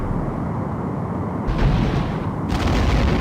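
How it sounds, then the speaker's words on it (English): A torpedo spread fires and detonates in the 1995 Star Trek: The Next Generation game A Final Unity, two deep booming blasts landing about a second apart over a steady low engine rumble. "Keep unloading our torpedo spread on them."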